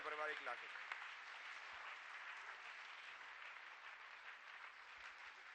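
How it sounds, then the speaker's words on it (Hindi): Loud, dense applause from a large audience at a Jain religious discourse gathering, sustained evenly for several seconds with a brief voice at the start. "जोरदार तालियां"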